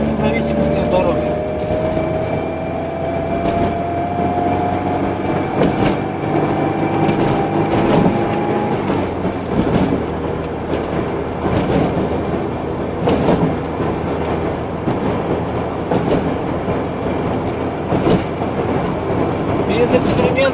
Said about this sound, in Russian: Разгоняться буду плавно. Ехать по пятой передаче со скоростью 60-80 км в час.